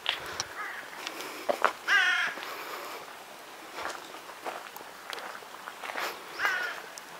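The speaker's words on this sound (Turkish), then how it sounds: "Ve tabii bak kargalar." Crows caw outdoors in a Swiss mountain village, a few harsh calls scattered over soft ambient noise, with light footsteps and a faint rain-and-water background; no talking.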